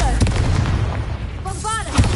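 A Confringo fire spell blast in Hogwarts Legacy lands as a deep booming impact under a dense rumble, followed by a brief tonal magical shimmer near the end, with a voice speaking over the start.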